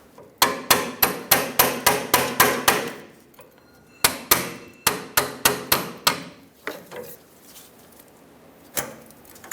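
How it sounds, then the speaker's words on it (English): Sharp metallic strikes from a pry bar and hammer popping out brake hose retaining clips on a Ford E-350 ring out in quick rhythmic bursts, two runs of rapid taps with a pause between, then a few scattered knocks. "let's take a pry bar hammer and pop out the 2 retaining clips"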